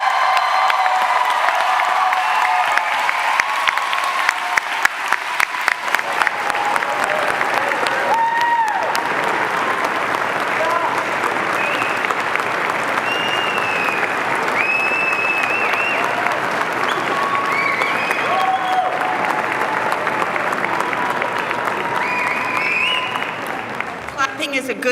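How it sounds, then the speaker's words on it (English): Large outdoor convocation audience applauding the graduating classes, a continuous wash of clapping from many people with occasional cheers and whoops, steady and loud throughout. "please join me in applauding the graduating classes of 2020 and 2021."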